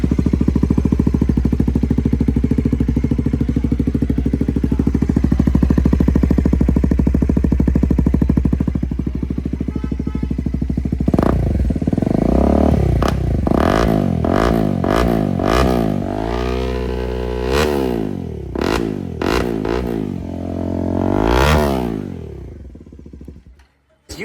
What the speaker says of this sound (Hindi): साउंड सुनाता हूँ कैसा है इसका। ये रहेगा बाइक स्टार्ट होने के बाद।